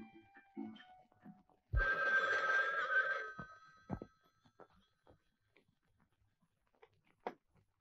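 A home telephone in an old Turkish film rings with a loud, bright bell burst lasting over a second, then quieter clicks and handling sounds follow as the line goes quiet.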